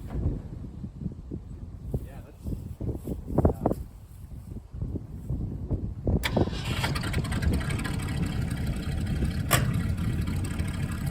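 A Ford car's engine rumbles low and uneven, with a sharper onset as it picks up and begins moving, under a voice.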